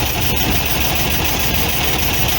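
A VW Beetle engine fitted with twin Solex 32 PDSI carburetors idles steadily and loudly at close range, a continuous low rumble with a slight unevenness and no voices.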